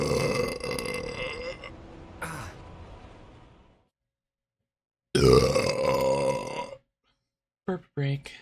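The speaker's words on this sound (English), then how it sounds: "There's a burp for you guys." A character in a burp compilation lets out long, drawn-out belches, one fading into silence, then another loud belch after a pause, with short voiced bursts at the end.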